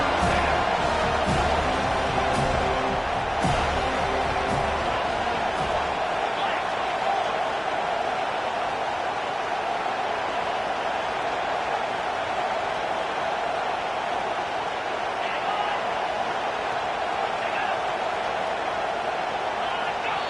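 Stadium crowd noise in a football video game forms a dense, continuous roar that swells loud throughout, with a commentator's voice talking over it early on.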